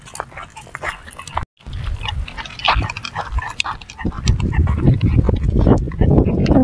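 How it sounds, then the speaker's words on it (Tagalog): Large dogs on a street bark and growl in irregular bursts, close by and getting louder, mixed with people talking nearby. "Ay, yung mga aso. Medyo may aso malaki."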